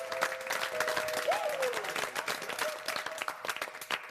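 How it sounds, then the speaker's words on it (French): Lively studio audience applause for three contestants on the reality show Loft Story, dense clapping throughout with a brief tonal whistle or cheer rising over it partway through. "j'aimerais que vous donniez une bonne main d'applaudissement à ces 3 lofters"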